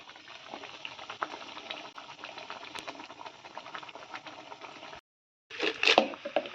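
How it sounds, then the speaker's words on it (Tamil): Thick curry gravy with soya chunks bubbles and sputters steadily in a pot, a continuous simmering crackle with a brief silent gap near the end. "சோயா போட்டு நல்லா கொதிக்குது குழம்பு"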